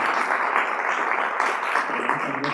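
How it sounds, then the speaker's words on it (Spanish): An audience at a lecture event on the nature of time welcomes a speaker with applause, a dense, continuous wash of many hands clapping at an even, fairly loud level throughout. "lo recibimos también con un aplauso al doctor Pablo Cisterna"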